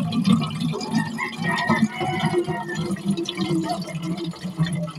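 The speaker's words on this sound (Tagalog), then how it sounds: "Gripo lang tayo kumukuha para tipid sa tubig" Water runs steadily with dripping, splashing sounds, close by, continuing for several seconds without talk.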